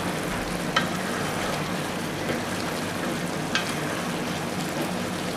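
Tandoori chicken sizzles and dries in an open pan, a steady dense hiss of frying with a couple of faint spoon clinks, no talking.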